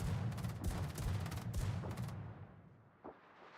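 Naval guns firing in a World of Warships battle, a dense rumbling barrage of overlapping booms for about two seconds that then fades, with one more distant thud near the end.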